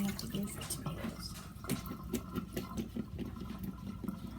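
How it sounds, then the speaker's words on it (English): Fresh tomatoes rinsed briefly under a running kitchen tap, a steady close splash and trickle with small knocks and drips as they are turned in the hands. "All you do is kind of a quick rinse and you're done."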